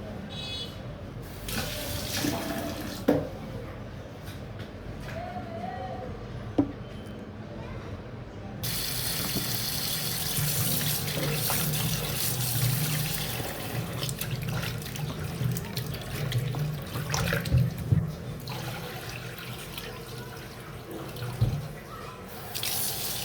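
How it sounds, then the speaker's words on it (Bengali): Raw beef pieces are rinsed under a running kitchen tap, a continuous close splash of water that swells louder partway through, with occasional clunks and sloshes as the meat is handled in the sink. "মাংসটি আমি ধুয়ে ফেললাম।"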